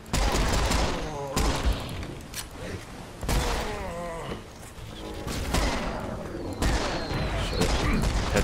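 Dense gunfire from Serious Sam: Siberian Mayhem, loud and continuous bursts with explosive booms, under someone talking throughout.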